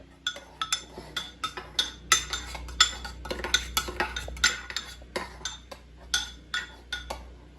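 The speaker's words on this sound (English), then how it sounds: "Y'all know she been over here stirring the heck out of these grits the whole time." A spoon stirs grits in a pot, scraping and clinking against the metal in a fast, irregular rhythm of sharp close taps that run almost continuously.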